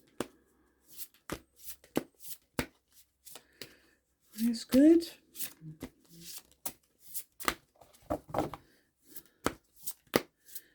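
Tarot cards being shuffled and tapped in quick, crisp bursts, close up, with a brief spoken remark partway through.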